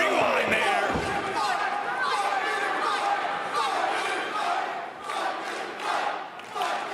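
Loud wrestling arena crowd during a match between two wrestlers, fans chanting rhythmically in unison with a thud near the start, while a commentator talks over the din.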